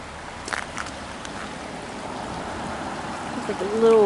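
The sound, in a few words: creek water flowing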